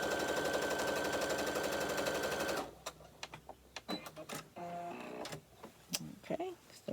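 A sewing machine runs fast and continuous while stitching fabric for a book sleeve, a close, steady mechanical whirr for a few seconds before stopping abruptly, followed by scattered handling clicks and a person talking.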